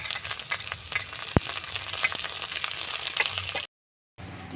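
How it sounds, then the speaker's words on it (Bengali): Chopped onions and chillies frying in a pan, giving a steady crackling sizzle with one sharp click partway through, before the sound cuts out briefly and then returns. "এখন একটু লাল লাল করে ভেজে নেব।"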